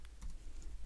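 A few quiet, quick keystrokes on a computer keyboard, typing into a software search field, sound as faint close clicks with no voices.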